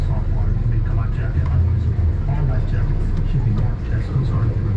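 A Yamaha F300 outboard engine on a Stabicraft 2350 boat, a loud low rumble that rises as the throttle opens, with a voice talking over it.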